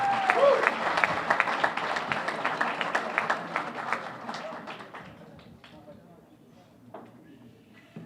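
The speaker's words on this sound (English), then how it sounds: "Once again, another round of applause for Revere Karate Academy." Audience applause at the Revere Chamber of Commerce awards ceremony, starting as a dense round of clapping from a crowd, then thinning into scattered claps that fade to quiet by the end.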